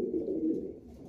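Racing pigeon cooing softly up close, a low rolling coo sustained for about a second in an otherwise quiet setting.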